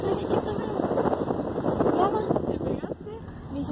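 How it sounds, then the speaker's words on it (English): Cold night wind blasts across the microphone as a steady, loud, rumbling roar, with a person talking over it for most of the stretch. "the wind is blasting in my face"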